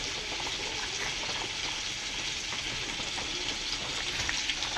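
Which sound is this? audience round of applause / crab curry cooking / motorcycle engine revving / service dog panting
crab curry cooking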